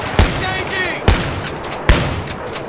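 Three sharp, loud shotgun blasts from the video game Battlefield 3, spaced about a second apart, each a sudden broadband crack with a short decaying tail, with some faint voice and game sounds between them.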